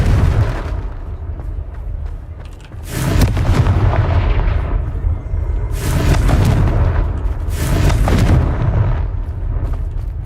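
Bombarda and Confringo spell explosions in Hogwarts Legacy land as a run of loud, heavy booms with rumbling tails, several blasts hitting in close succession over a dense battle mix.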